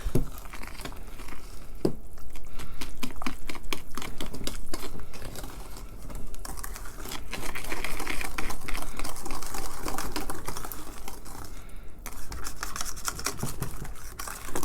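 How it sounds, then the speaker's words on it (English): Rapid, steady whisking of white chocolate cake batter with boiling water in a bowl, a dense scratchy clatter that runs continuously with brief pauses, close and fairly loud. "And I'm just going to whisk."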